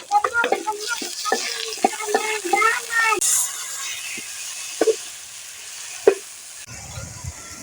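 Dried chilies, chopped garlic and onion fry in mustard oil, a hissing sizzle punctuated by sharp stirring clacks and scrapes of a spoon against the pan, quieter toward the end.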